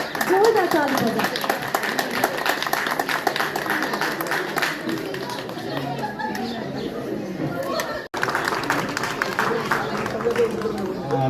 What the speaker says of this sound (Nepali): जोरदार ताली बजाउँ।